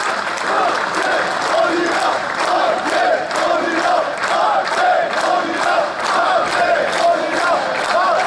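A large crowd at a protest in Skopje applauds continuously, dense clapping with rhythmic surges and shouts mixed in, loud and close throughout.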